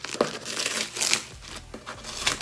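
A KISS cosmetics PR package is torn open by hand without scissors, giving close, crinkly bursts of tearing and rustling packaging.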